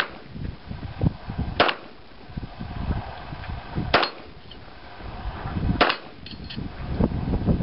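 Single gunshots ring out at a shooting range, three sharp cracks spaced a couple of seconds apart with lighter clicks between, fairly distant and moderately loud.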